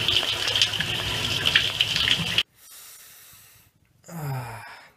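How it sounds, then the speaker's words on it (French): Shower water gushes loudly and steadily for a couple of seconds, then cuts off, leaving quieter dripping and rustling, followed by a brief splash at the end. "une bonne douche s'impose. Alors, sous la douche"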